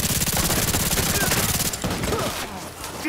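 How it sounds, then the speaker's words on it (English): Sustained automatic gunfire in The Division 2 during a shootout at a crash site, with rapid dense bursts that rattle on for over a second before thinning into scattered shots and background combat noise. "Taking too much fire here!"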